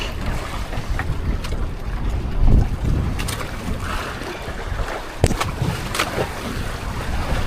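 Strong wind buffets a small boat at sea, a steady roaring rush with gusty swells and occasional sharp knocks and creaks, close and loud throughout.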